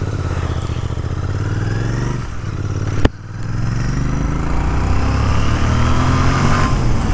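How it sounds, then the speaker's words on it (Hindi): Royal Enfield Interceptor Bear 650 motorcycle engine and exhaust during a ride, a steady loud throbbing drone that dips, gives one sharp clack, then builds again as the revs climb. "you get to feel the engine and the exhaust sound."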